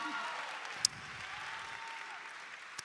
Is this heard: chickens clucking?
no